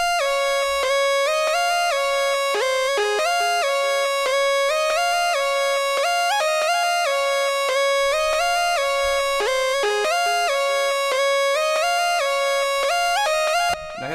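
A bright synth lead, the Purity Desolate Solo preset, plays a repeating melodic pattern for a pluggnb beat, steady and prominent with soft low hits underneath, alone without speech.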